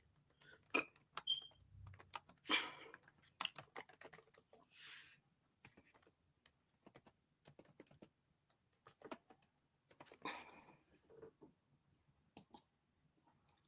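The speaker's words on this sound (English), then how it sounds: "I got to type it in here." Bursts of typing on a computer keyboard, close and quiet, with irregular runs of clicky keystrokes separated by short pauses over about fourteen seconds, no speech.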